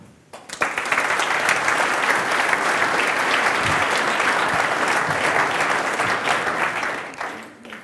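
Sustained audience applause fills the room at a business conference in Werdenberg, greeting the managing director of Lipuner EMT; dense, steady clapping rises quickly, holds for several seconds, then tapers off near the end.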